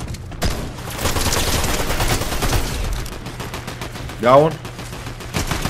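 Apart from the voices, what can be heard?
gunfire in a video game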